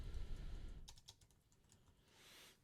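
Computer keyboard keys are tapped in a short quiet burst while entering a bullet item into a PowerPoint slide, close by, followed by a faint hiss.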